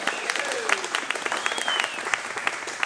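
Audience applause at a private Corvettes at Carlisle 2009 event honoring Kevin Mackay, a steady crowd clapping with dense overlapping hand claps throughout, fairly close and continuous without a break.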